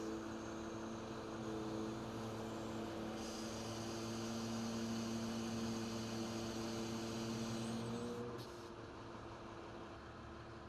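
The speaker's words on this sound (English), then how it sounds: "So now we'll activate the winch." A hydraulic crane winch runs with a steady droning mechanical hum and whine that shifts in pitch partway through, continuous and fairly close, with no speech.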